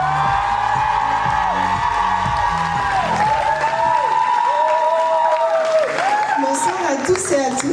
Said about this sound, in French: C'est parti, sous vos applaudissements.